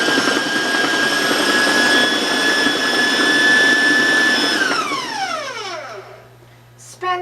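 Electric mixer beating chocolate cupcake batter at its highest speed under a kitchen towel, a loud steady high-pitched whine that winds down as the motor is switched off, ending with a brief clunk.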